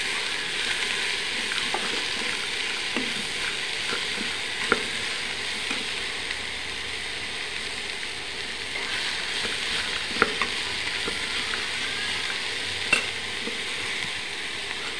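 Vegetables for vegetable pulao sauté in a pan with a loud, constant hiss of frying. Repeated spatula scrapes and taps come through the sizzle, with no talking.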